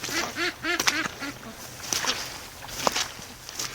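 Several ducks quack in short bursts, a cluster of nasal calls early on, then scattered quacks with light rustling in a quiet outdoor setting.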